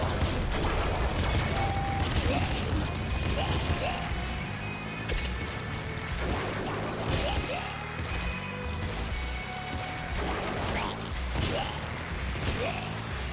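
Rapid machine gun fire from the top-down shooter Nuclear Throne, a dense, steady stream of shots with crashing hits and mechanical clatter that runs without pause from start to finish.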